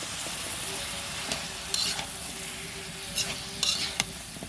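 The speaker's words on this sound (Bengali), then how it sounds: "এবার তরকারি দিয়ে একটু কষিয়ে নেব" Teasel gourd and two small potatoes being stirred in a pan of cooked-down spices give a steady close sizzle and hiss, broken by a few sharper scrapes of the spoon against the pan.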